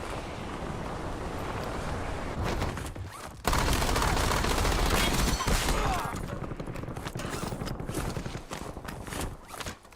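Gunfire in the Warzone battle royale video game: bursts of rapid shots, loudest in a dense fusillade near the middle, mixed with footsteps and mechanical clatter; faint radio-like voices sit underneath.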